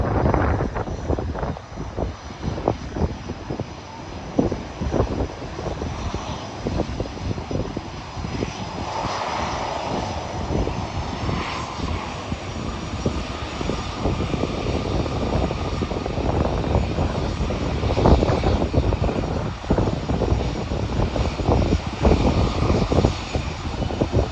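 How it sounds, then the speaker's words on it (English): A Cessna corporate jet at Burlington International Airport in Vermont roars steadily with a loud, sustained engine drone, buffeted by wind noise on the microphone throughout and with no voices. "Believe it or not, this is a Cessna jet, probably a corporate jet"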